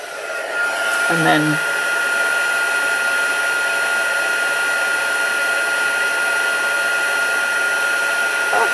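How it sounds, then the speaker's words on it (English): A heat gun blows steadily on embossing powder, a loud, constant whooshing hum that runs the whole time with a brief voice near the start. "Heat up your heat gun before you get it anywhere near your embossing powder"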